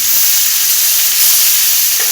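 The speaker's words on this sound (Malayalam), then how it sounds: "നമ്മൾ ആദ്യം ഉണക്കമീൻ ഒന്ന് വറുത്തെടുക്കണം" Loud, steady sizzling of dried fish frying in hot oil close by, a continuous hiss with a faint clink near the end.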